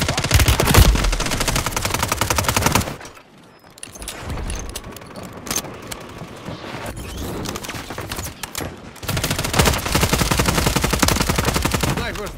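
Dense rapid gunfire from a Call of Duty match, loud bursts at the start and again near the end with a quieter, scattered stretch of shots between them.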